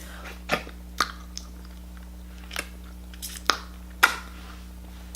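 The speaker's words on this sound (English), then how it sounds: "I'm a mess eating sushi." Close, quiet chewing of a creamy shrimp sushi roll, a handful of soft wet bites and squishy crunches spaced about a second apart over a low steady hum, with no talking.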